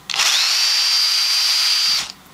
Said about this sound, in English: All I'm doing is drilling a hole through copper